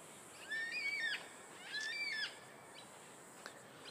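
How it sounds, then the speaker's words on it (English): Two drawn-out, wavering black cockatoo calls in a row, high and somewhat distant, then a quiet pause with faint background hiss. "what we can hear here is black cockatoos"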